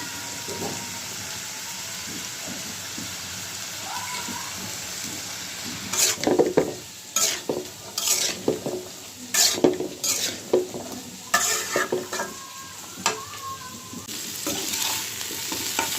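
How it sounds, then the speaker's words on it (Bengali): Potatoes, broccoli and onion stalks with turmeric and salt fry in a pan with a steady close sizzle, broken by repeated clattering scrapes of a spatula stirring against the metal. "এদিক দিয়ে পেঁয়াজের কলি আর আলুটাও বসিয়ে দিলাম ভাজার জন্য"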